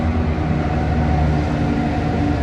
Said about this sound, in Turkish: tren de geçiyor.